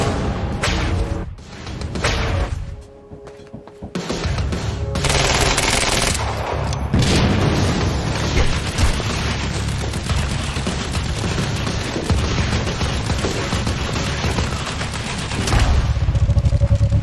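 Dense turret gunfire in the action shooter Quantum Break, with sustained automatic bursts and booming impacts that run nearly the whole time, loud and close, with a short lull early on.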